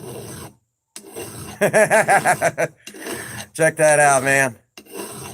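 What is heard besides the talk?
filing and reshaping an axe head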